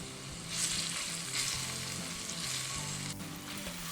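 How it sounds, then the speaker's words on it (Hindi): Grated raw mango, half a medium one, frying in a hot oil tempering while cooking Rajasthani gunda sabzi; a steady close sizzle and crackle with soft stirring scrapes, no talking. "इसको भी हम तड़के में थोड़ा सा भून लेंगे"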